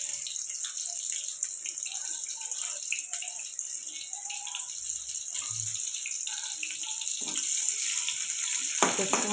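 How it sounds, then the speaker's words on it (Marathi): Onion sizzling in hot oil in a pan for cabbage, a steady bright hiss throughout, fairly close, with faint clinks and a short bump near the end. "कांदा फ्राय होत आहे."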